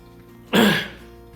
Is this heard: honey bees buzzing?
no